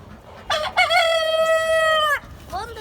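A rooster crows once, loud and close, a long drawn-out call lasting about a second and a half, with a short cluck-like call from the chickens just after.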